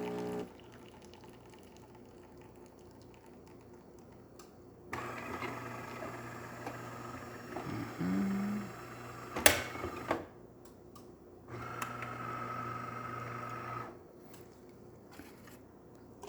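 A DeLonghi espresso machine with a water pressure fault in its over-pressure valve pulls an espresso shot. A low pump hum comes in two separate stretches, with small clicks and one sharp knock in the quiet room.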